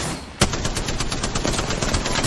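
Rapid automatic gunfire in the Apex Legends video game, a burst of close, loud shots in quick succession that goes on steadily for about two seconds.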